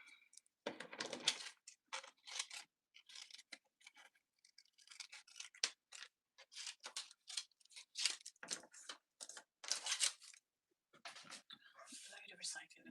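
Scissors fussy-cutting paper pieces close up, quiet irregular snips and rustles in short bursts, with soft whispery talking between them.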